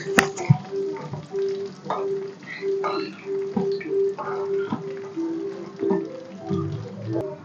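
Garlic and dried red chillies with cumin frying in hot oil for a leafy amaranth stir-fry, a steady close sizzle with light crackles and scrapes, while a person talks over it.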